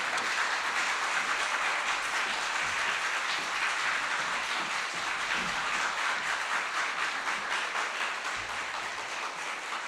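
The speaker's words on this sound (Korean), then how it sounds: "여러분이 떨리시지 않게 큰 박수로 모실 때" A church congregation gives a welcoming round of applause for a visiting artist, a dense, even wash of clapping that carries on steadily for about ten seconds at a moderate distance.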